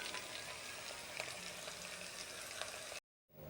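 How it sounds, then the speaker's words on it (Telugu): Two spoons of ginger garlic paste sizzle in hot oil, a steady soft crackle and hiss that cuts off abruptly near the end. "అదే నూనెలో అల్లం వెల్లుల్లిపాయ పేస్ట్ 2 స్పూన్లు వేసి వేపుతున్నా"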